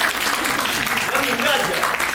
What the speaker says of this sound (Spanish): Aplausos para Cande.